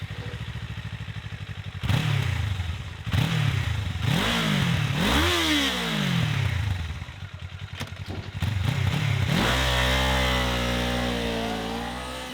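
A Kawasaki Ninja 500 motorcycle being ridden, its engine loud and close, revving up through repeated gear changes with rising and falling pitch, then settling into a steady high drone.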